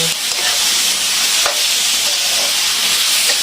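Gourd and chili stir-frying in a hot pan, a loud, continuous hissing sizzle close up with occasional spatula scrapes and pops.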